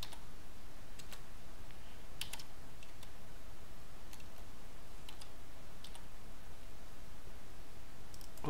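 Typing on a computer keyboard while entering commands during a Windows Server Active Directory migration: scattered light key clicks in short bursts, faint against a steady background hiss, with no voice.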